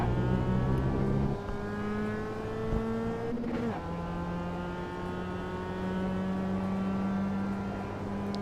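Simulated race car engine in a racing video game at Laguna Seca drones steadily and loud, with a sharp throttle blip and shift around the downshift, then pulls on throttle in a smooth, rising tone.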